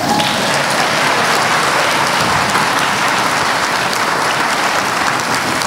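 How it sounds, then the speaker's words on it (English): Sustained, dense applause from an audience gathered at a Bennett College Founders Day welcome for its president, loud and even throughout with no voices on top. "You can applaud."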